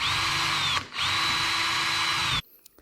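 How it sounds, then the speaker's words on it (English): A power drill bores a pilot hole into a garage wall stud while shelves are being installed, a loud steady whine close by with one brief dip before restarting, then cutting off abruptly near the end. "Then I drill a pilot hole."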